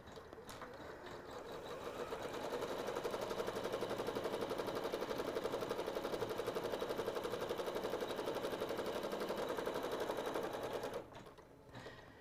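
An embroidery machine stitches an appliqué ornament in a rapid, even mechanical chatter that starts up, runs steadily for about ten seconds and then stops.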